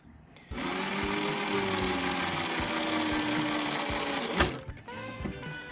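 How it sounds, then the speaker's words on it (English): A battery-powered Ryobi angle drill runs in a steady whine for several seconds inside an RV cabinet build, close and clear, then winds down and stops near the end. "it's my Ryobi, it's like an angle drill."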